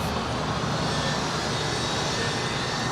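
A diverted airliner at LAX passes as a steady, close broadband engine roar, holding even and loud from start to finish with no voices over it.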